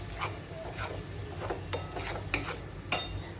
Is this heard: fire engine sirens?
no